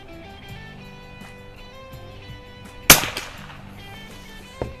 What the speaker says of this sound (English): We'll shoot a couple of groups